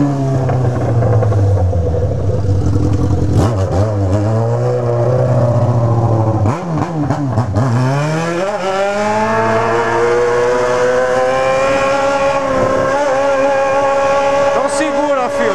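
A loud Yamaha XJ6 motorcycle engine revs repeatedly through a raised exhaust, its exhaust rising and falling in pitch close by, with people talking over it.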